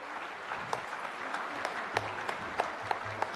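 Audience applause at a Geeta Maitri Milan gathering in Tirupati, a steady wash of distant clapping from a crowd with occasional sharper individual claps, heard alone.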